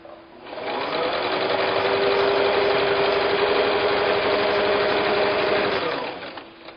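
A sewing machine runs steadily for about six seconds, stitching a quilt block seam, close and loud with a fast even motor whir, starting and stopping smoothly.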